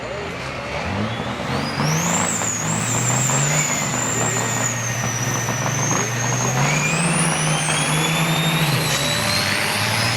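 Big rig trucks race around Onaway Speedway, including a 1986 Freightliner, with a continuous loud diesel engine roar rising and falling in pitch and a whining note above it, heard from close by without a break.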